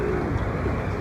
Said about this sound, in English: Oh damn, look at the birds